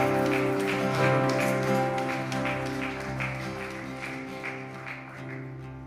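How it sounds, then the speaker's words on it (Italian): Church congregation clapping during a worship service, a dense wash of claps over sustained organ or keyboard chords, gradually fading. "Un applauso al Signore perché Egli è degno di ogni lode"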